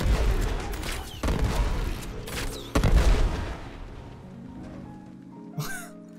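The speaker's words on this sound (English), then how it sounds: "firing as fast as we can right into the center" Rapid weapon fire from the Kuva Bramma in the Warframe video game, with repeated booming blasts and crackling bursts layered densely, then a quieter tail with a faint squeal near the end.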